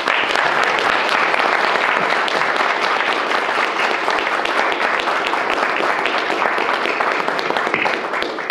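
An audience stands and applauds school bus drivers at an event: dense, loud, continuous clapping from a large crowd, holding steady for over eight seconds with no speech over it.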